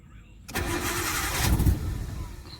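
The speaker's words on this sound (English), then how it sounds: "We're gonna put gas in it now and start it up and see how it sounds." A Nissan Tiida engine with an alternator conversion cranks and catches after a brief quiet moment, then runs with a rough, loud rumble close by.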